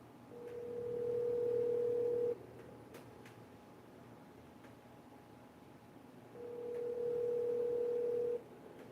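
An outgoing phone call rings on the line before being forwarded to voicemail: two long, steady ringback tones of about two seconds each, separated by a quiet pause of about four seconds, with no talking.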